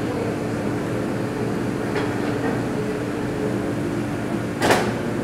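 An oven door opens with a single short clunk near the end as a baked, bubbling artichoke dip is taken out, set against a steady kitchen hum.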